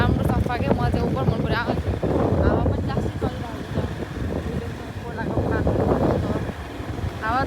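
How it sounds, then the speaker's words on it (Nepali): Wind gusting across an open, clean road near Kerabari, a steady rushing roar buffeting the microphone throughout, with people talking over it. "हावा पनि लास्टै चलिरहेको छ।"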